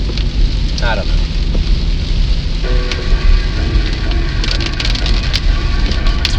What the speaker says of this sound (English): I really like driving in the rain.